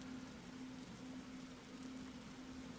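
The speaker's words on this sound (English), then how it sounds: "even though it's been raining most of the day" Steady rain falls through the Roblox game 99 Nights in the Forest, a soft even hiss that holds at a faint level the whole time, with a low steady hum beneath it and no voices.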